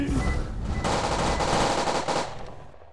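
Rapid automatic gunfire in a Roblox game, a dense burst of loud shots that continues for about two seconds before tapering off, with no talk over it.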